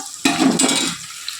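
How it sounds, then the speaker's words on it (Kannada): Spices hit hot oil after mustard seeds in a pan for a cauliflower and potato stir-fry, bursting into a loud sizzle that settles into steady frying crackle, with a spoon stirring briefly, no voices. "ನೋಡಿ ಇದೆಲ್ಲ ಹಾಕ್ಬಿಟ್ಟು ಚೆನ್ನಾಗಿ ಫ್ರೈ ಮಾಡ್ಕೊಳ್ಳೋಣ."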